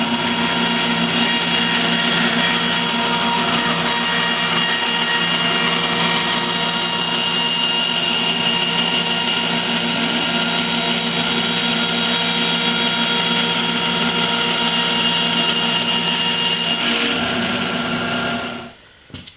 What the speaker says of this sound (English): I'm going to take this one template over to the bandsaw and make the cuts